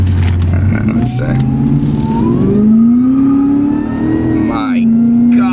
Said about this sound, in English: This is like half throttle. The supercharger whine